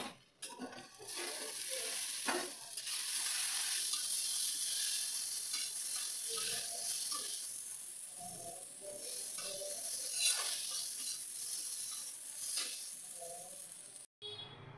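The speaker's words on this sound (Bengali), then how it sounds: "এখানে দেখো আমি বড়াগুলো রেডি করে তারপরে বড়াগুলো ভেজে নিচ্ছি" Lentil fritters (dal bora) frying in hot oil in a pan, a steady loud sizzle and hiss with occasional stirring scrapes, continuous for the whole stretch, then cutting off abruptly near the end.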